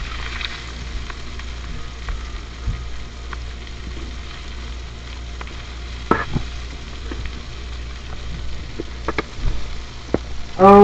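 Chicken pieces browning in olive oil in a pan for arroz con pollo, a soft steady sizzle with occasional utensil clicks and scrapes toward the end, close and moderately loud, no talking.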